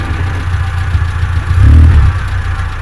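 A Jeep Willys K5 engine idles nearby with a steady low rumble and a light mechanical clatter, swelling briefly as if lightly revved before settling back.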